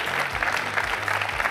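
Audience applause at the Archipro 2017 professional event, a dense steady clapping from a crowd with faint voices underneath, lasting a couple of seconds at a fairly constant level.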